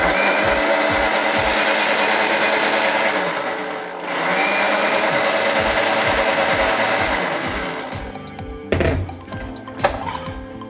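Strawberry milkshake whirring in a blender with milk, a steady motor drone running several seconds, dipping briefly, then winding down and ending with a few knocks and clatters.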